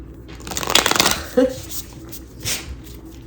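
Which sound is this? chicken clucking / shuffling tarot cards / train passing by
shuffling tarot cards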